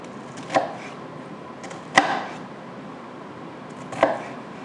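A knife chops down through an onion onto a cutting board in three separate sharp knocks spaced about one and a half to two seconds apart, close and fairly loud over a quiet room.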